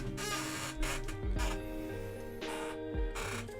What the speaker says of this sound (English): Ah, noisy chair. I need a new chair.